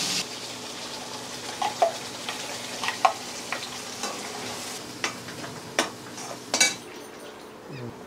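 Masala poured slowly into a hot pan and stirred, a low steady sizzle broken by scattered spoon taps and scrapes.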